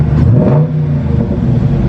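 A Dodge Charger engine revs up and settles, a loud close rumble with popping exhaust and no talking.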